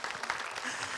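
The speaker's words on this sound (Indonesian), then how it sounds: "Tepuk tangan dulu" A brief second of crowd applause from a studio audience at an Islamic talk show, steady dense clapping with no pauses, heard alone.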